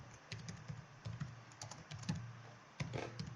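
Typing on a computer keyboard, with soft irregular key clicks in bursts and a low background hum, close and fairly quiet, no talking.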